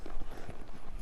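A ridden horse walking, its hooves giving a short run of dull, close clip-clop steps on soft ground, without voices.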